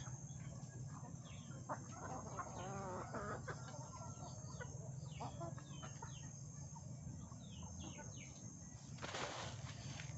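Native chickens cluck and chatter softly while eating a feed of pellets, wheat and cracked corn in a pen, with a faint steady hum beneath and scattered bird calls.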